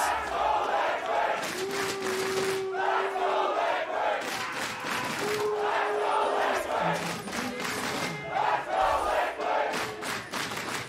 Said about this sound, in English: Team Liquid brings out the cheer squad.